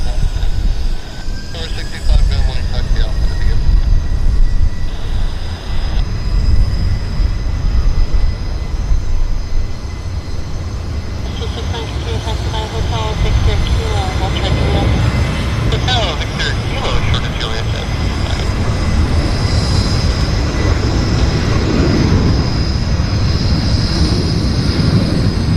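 A heavy WestJet airliner rolling down the runway at Vancouver airport for takeoff, a loud continuous rumbling roar of engines and wheels that swells and shifts, with people talking over it at times.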